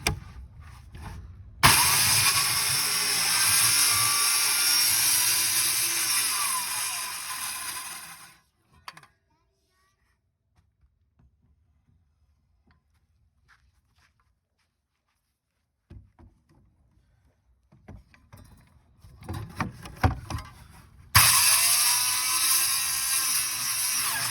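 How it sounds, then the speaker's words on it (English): A power saw cuts a sink opening into a wooden countertop in a loud, sustained burst. A long quiet stretch follows with a few small knocks, then the cutting starts again just as loud. "so after I bore the holes in the corners, now I'm going and start cutting again."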